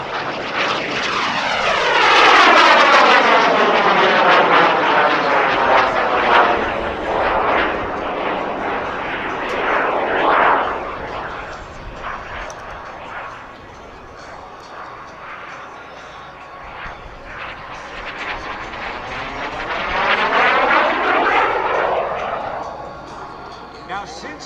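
A SubSonex Mini Jet makes passes at a military air show, its loud jet roar sweeping in with a pronounced Doppler whoosh, fading in the middle, then rising again for a second pass.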